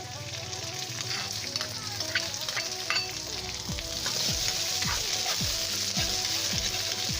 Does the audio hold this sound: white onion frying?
yes